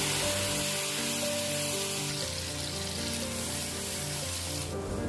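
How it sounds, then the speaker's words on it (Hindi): Water poured into a hot pan of kabsa spice mix, giving a loud, steady sizzle and hiss with a spray-like wash that carries through without any talk. "मिक्स करने के बाद थोड़ा सा पानी हम इसमें डाल देंगे।"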